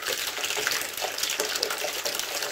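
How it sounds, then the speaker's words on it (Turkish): Black water gushing from a radiator valve while a central gas heating radiator is flushed, a steady close rushing flow with a bright splashing hiss and no talk. "Siyah su geliyor."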